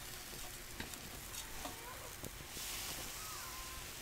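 Burgers sizzle on a hot grill as they are flipped, a steady broad hiss and crackle with a few sharp scraping clicks from the spatula. The sound is fairly faint and has no talk over it.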